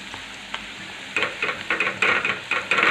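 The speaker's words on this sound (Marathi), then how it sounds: "आता हे आपणच खोबरं लसूण हे सगळं भाजून घेतलं होतं त्यामुळे जास्त वेळ मी परतू देणार नाही" Roasted coconut and garlic masala sautéed in a pan for a rasa bhaji curry gives a soft sizzle, then from about a second in a series of close, rhythmic stirring scrapes and crackles repeat steadily to the end.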